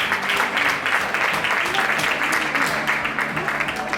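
Crowd clapping fills the room at a women's all-star foosball match in Lugo. The applause is steady and fairly close, with some voices mixed in.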